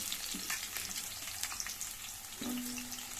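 Garlic and onion fry in a pan with a steady, close sizzle and occasional soft stirring scrapes, quiet overall and with no voices.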